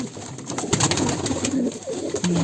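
Pigeons of large-winged breeds coo in a village loft, several soft throaty calls overlapping at close range against a steady background hum, with no talk.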